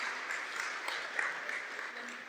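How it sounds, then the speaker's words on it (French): Light, fairly quiet clapping from a small group at an informal French-speaking gathering of friends, a soft uneven patter heard indoors at some distance with no voices over it. "Ah oui, on peut applaudir là."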